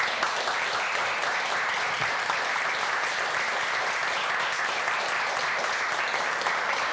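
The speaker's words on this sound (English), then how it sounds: "let's give a round of applause to all of our candidates" A room full of people at a candidates forum claps steadily, a continuous wash of applause holding at an even level from start to finish.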